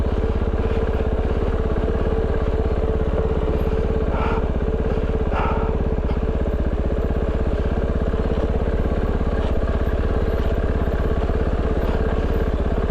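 Kove 450 Rally adventure motorcycle descending a rutted jeep trail on Mt. Baldy, its engine chugging steadily and loud throughout, with a couple of brief clattering knocks partway through.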